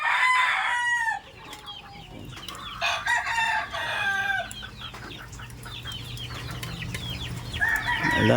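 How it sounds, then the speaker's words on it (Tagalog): Chickens cluck and chatter nearby on a rainy day, with a rooster crowing at the start and end, over a faint steady background hum. "Kawawa ang mga manok."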